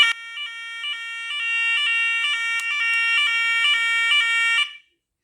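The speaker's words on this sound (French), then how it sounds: "Et là, il suffit de déclencher l'alarme." An electronic alarm siren, triggered during a system test, sounds a rapid, pulsing two-tone beep, loud and steady for several seconds before cutting off abruptly.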